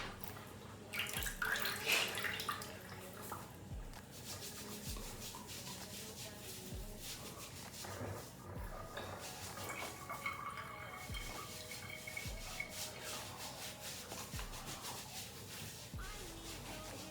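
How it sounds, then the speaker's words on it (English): Exfoliating glove rubbed over skin, a steady close-up scrubbing friction with faint watery swishes after warm water, continuing evenly throughout. "Now gonna go in with the exfoliating glove."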